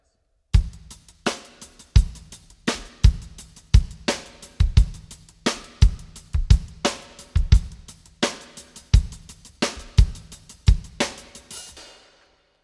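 Drum kit groove with straight, even eighth notes on the hi-hat over kick and snare hits, played steadily for about twelve seconds and heard alone at close range.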